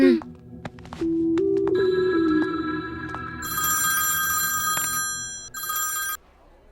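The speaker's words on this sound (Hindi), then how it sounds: "वैष्णव को फोन लगा, उसी से पता कर बात क्या है" A telephone rings with a bright, electronic trilling tone that starts after a short pause and repeats in long bursts, fairly loud and close, with a brief low voice near the start.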